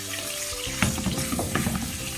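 Onions frying in a little oil for butter chicken, a dense continuous sizzle with crackles and scraping stirs, close and steady throughout.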